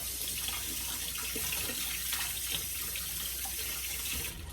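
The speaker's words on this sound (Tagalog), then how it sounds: "banlawan nyo po ng malamig na tubig para malis" Cold tap water runs steadily into a sink, rinsing after onions are cut, a close, even hissing rush that continues unbroken and is heard on its own.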